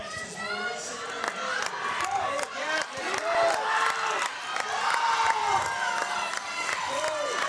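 A crowd at a powerlifting competition cheers and shouts steadily throughout, a dense, lively roar of many voices with scattered yells and some clapping.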